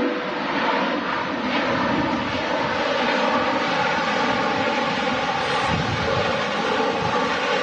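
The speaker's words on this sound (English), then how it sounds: "Full reverse, power, and uh, still taking a while to stop" An airliner at Manchester Airport lands in stormy weather with full reverse thrust, producing a loud, sustained roar and rumble of engines that stays steady throughout, with some wind buffeting.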